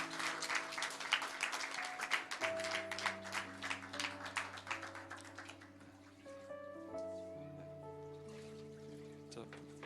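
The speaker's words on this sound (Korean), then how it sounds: "우리 하나님께 영광의 박수" Applause in a Korean church after a baptism, with brisk clapping in the first half that fades as sustained organ or keyboard chords carry on alone.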